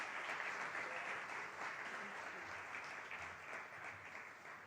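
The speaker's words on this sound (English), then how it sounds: "let's give them a round of applause" Faint, distant applause filling a hall at a launch ceremony for the ladies of the AAD organization, a steady wash of clapping lasting several seconds with no voices over it.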